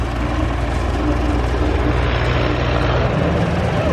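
A big Belarus MTZ 800 tractor moving nearby, its engine giving a steady, loud, low rumble that holds evenly throughout with no voices over it.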